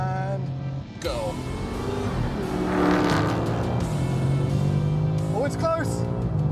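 Engine roar from a BMW M5 CS and a Dodge Challenger Hellcat Redeye in a roll race, a steady loud drone with rising pitch sweeps as they accelerate, heard over continuous talk.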